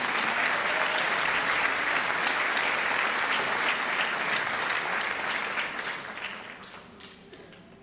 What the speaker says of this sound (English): Please join me in another round of applause for our Teacher of the Year finalists.